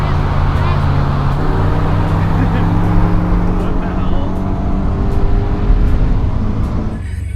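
A car drives down a road near a wide-body BRZ and FRS, a loud steady low engine drone with droning harmonics that swells and passes, then fades slightly near the end.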